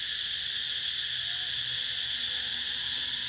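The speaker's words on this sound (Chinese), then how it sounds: "这个知了叫" Cicadas in rural Laos drone at night in a steady, dense, high-pitched chorus that never lets up, moderately loud and unbroken, with no voices over it.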